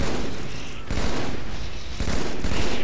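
Halo 2 gunfire pounds loudly and continuously as dense, sustained volleys with no break across the moment.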